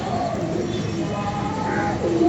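Pigeon cooing close by in a soft, continuous run of low, throaty coos with gentle rising notes.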